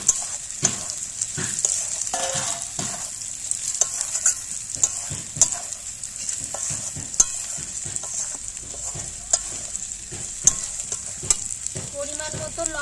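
Eggs sautéed in a spiced masala sizzle steadily in the pan, with a constant high frying hiss and repeated scraping and stirring knocks spaced throughout.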